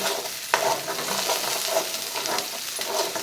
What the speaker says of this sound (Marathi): आता हा मसाला तेलात चांगला भाजून घ्यायचा